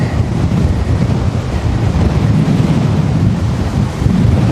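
Strong wind buffeting a microphone outdoors, a steady low roaring rush with gusty swells throughout and no voices.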